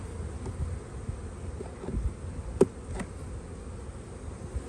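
Honey bees hum steadily from an open spring hive box, a close, continuous low drone with a few louder buzzes as individual bees pass near.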